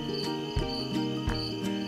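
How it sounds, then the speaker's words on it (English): Crickets chirp in a steady, pulsing rhythm, bright and close, with faint background ambience beneath and no voices. "Outside, the crickets chirped a night song."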